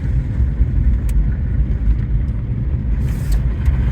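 A 1982 Saab 900 Turbo barn find drives on snowy ground, its engine giving a steady, close, low rumble as it accelerates, with no talk over it.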